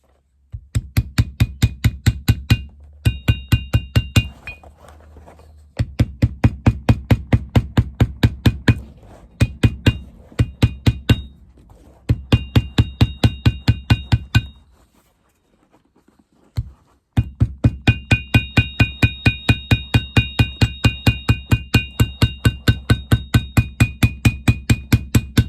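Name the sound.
small hammer hemming leather edge of Stuart Weitzman boot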